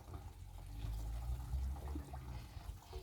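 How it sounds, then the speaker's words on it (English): Water draining out of a pipe into a drain beside a koi pond, a low gurgling rush with trickling splashes, steady and fairly faint, close by. "Pipe's draining there."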